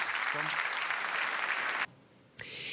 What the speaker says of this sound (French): Mesdames et messieurs, applaudissez le capitaine danois Simon Kerr.